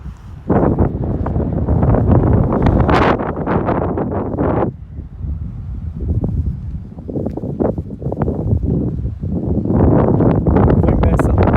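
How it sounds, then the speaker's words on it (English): Strong wind blowing along the Icefield Parkway near a glacier in Jasper, a loud, continuous roar buffeting the microphone, with a voice partly buried under it. "It's probably a bit windy."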